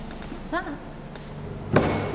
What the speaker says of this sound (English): It sounds to me like a door creaks and then something bangs loudly nearby